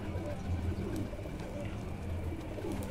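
Soft, low pigeon coos repeating at a moderate distance, with faint background noise and no other prominent sounds.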